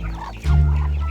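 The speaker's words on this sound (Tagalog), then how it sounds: "Meron pa akong isang manok dun." Chicken clucking on a rural Philippine homestead, a loud, close call rising after a short quieter start and holding steady to the end.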